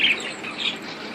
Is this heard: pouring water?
no